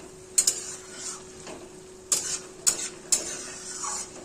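Bottle gourd ghonto cooked with bori and chickpea dal, stirred and pressed in a pan: scattered sharp metallic clinks of a spatula against the pan over a soft, steady sizzle, with scraping strokes between them.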